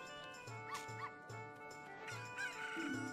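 A cucco chicken clucks in the video game Ocarina of Time, with short repeated clucks over steady, pulsing game music and effects.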